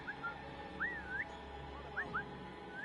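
Short, faint, sliding whistle calls in the video game Assassin's Creed Valhalla, coming as a rising pair and then a few more quick upward chirps over a quiet ambient background.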